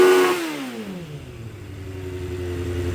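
A 2006 Suzuki GSX 600F Katana motorcycle with a carburetor problem revs high, then its engine pitch falls slowly and smoothly back down to a steady idle, loud and close.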